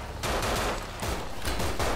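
Submachine gun fire in a video game, heard as dense, loud, continuous bursts of rapid shots that surge and ease in waves with almost no gaps.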